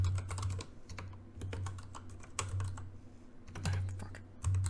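Computer keyboard typing in short irregular bursts of clicky keystrokes with brief pauses between runs, close and fairly quiet over a low steady hum.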